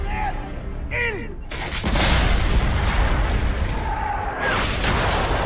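Heavy 11-inch coastal artillery guns firing shells at a warship, deep booms with a dense rumbling blast and shouted voices in the opening seconds.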